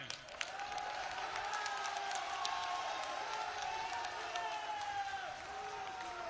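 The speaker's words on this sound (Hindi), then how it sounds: "जगदीशपुर की धरती पर सभी लोग खड़े होकर माननीय मुख्यमंत्री जी का ताली बजाकर स्वागत करें" A rally crowd at an Amethi public meeting applauds to welcome the Chief Minister, a steady, faint wash of distant clapping and crowd noise with a little cheering.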